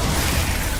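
Glacius freezing spell cast in Hogwarts Legacy: a loud, continuous crackling, shattering burst with a thick low-end rumble, steady for just under a second.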